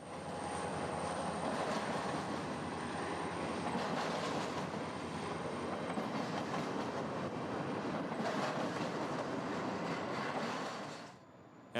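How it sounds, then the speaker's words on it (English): An eastbound double-stack freight train rolls into a town in a Canadian canyon, its wheels clattering over the rails in a loud, steady roar with rhythmic clickety-clack and no voices. "an eastbound stack train rolls into town"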